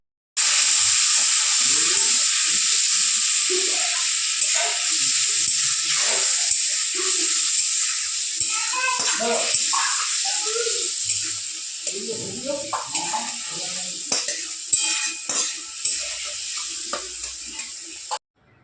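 Spices mixed in a pan with turmeric, a little sugar, salt and water, stirred with a steady sizzle and hiss and intermittent scraping, while faint voices talk in the background.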